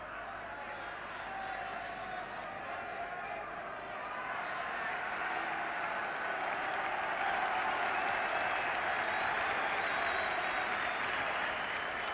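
Stadium crowd at a Northern Ireland v England football match roars and cheers steadily, a dense continuous wall of noise that swells slightly over time, with scattered shouts and applause-like texture throughout.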